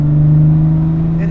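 A modified 1960 Aston Martin DB4 Series II engine rumbles with a deep, steady, trombone-like droning tone at close range, with a faint rising whine near the end.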